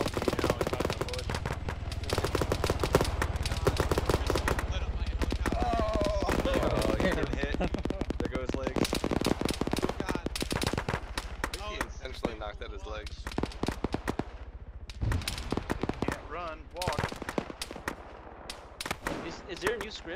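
AI soldiers in the military game Arma fire dense bursts of gunfire, with rapid automatic volleys and scattered single shots over about twenty seconds, loud and close, with voices talking among the shots.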